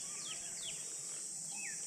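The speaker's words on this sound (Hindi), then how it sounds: "बाकी यहाँ के पक्षियों की आपको आवाज़ें आ रही होगी" Birds chirp outdoors near hillside caves on a hot day, giving a few brief, high, downward-sweeping calls spread out over a steady, shrill insect-like hum.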